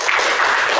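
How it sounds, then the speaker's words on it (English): Applause from a conference audience after a talk on asking sensitive questions in surveys, a dense, steady wash of clapping at even loudness that fills the whole moment with no voices. "Give him applause."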